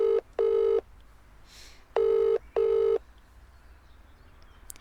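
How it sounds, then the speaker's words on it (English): A phone rings out on the caller's end of the line: two double-burst ringback tones, loud and close, then quiet line hiss. "I ring her again."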